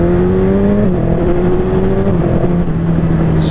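Motorcycle shifting from first into second with a Translogic iS4 quick shifter. A loud, steady engine drone climbs, dips briefly at the shift, then carries on under acceleration, close and with no talking.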